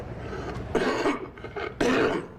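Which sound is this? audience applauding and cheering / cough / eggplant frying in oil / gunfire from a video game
cough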